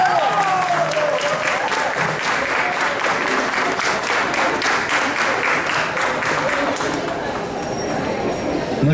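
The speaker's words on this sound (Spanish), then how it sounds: "Señor, un aplauso para ellos." An audience gives a singing group a loud, sustained round of applause, dense and continuous throughout, with crowd chatter and a voice heard briefly at the start.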